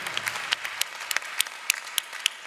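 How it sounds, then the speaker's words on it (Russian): Audience applause at an official presentation event, a steady patter of many hands with sharper individual claps standing out in a loose, uneven rhythm, fairly close and continuous. "Друзья, аплодисменты."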